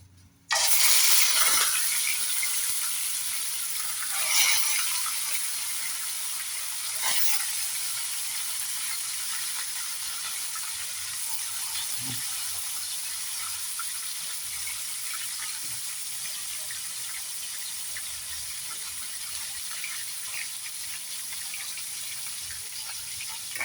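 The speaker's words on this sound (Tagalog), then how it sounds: "Babaliktad na natin yung pinipirito nating galunggong." Hot oil sizzles steadily as galunggong (round scad fish) fry, with a few sharp crackles and clanks early on, then a continuous hiss.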